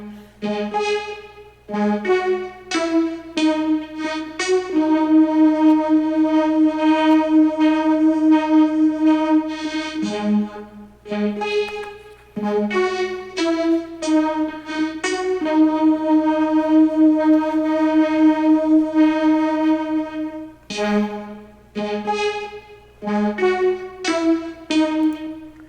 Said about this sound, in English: I actually played a vocoder with the same melody as well on top of that, so I stacked that.